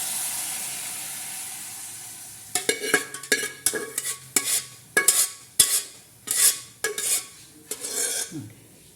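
Jackfruit curry (gujje palya) being stirred in a pan, silence at first and then a run of about ten scraping, clattering strokes of a spoon against the pan with a faint sizzle beneath.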